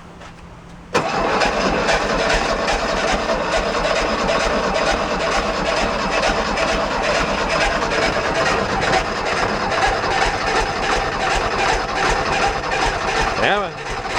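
An old lawn mower engine cranks and catches after a short quiet lead-in, then runs loudly and roughly at a steady idle for over ten seconds, close by, with no one speaking.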